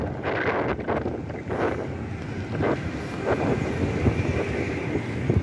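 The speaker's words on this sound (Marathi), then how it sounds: "आता खूप वारा इकडे आहे" Strong mountain wind buffets a cyclist on the road from Udhampur to Banal in Jammu and Kashmir. It makes a continuous loud rushing rumble with gusty swells, close to the microphone.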